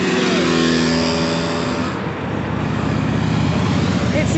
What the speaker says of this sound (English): It's a GDR rally.